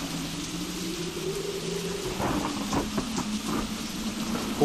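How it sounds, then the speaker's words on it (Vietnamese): Heavy rain pours steadily as a dense, continuous wash of hiss, with a low rumble and a faint hum underneath, growing slightly louder midway. "Mưa như vậy biết khi nào mà tạnh."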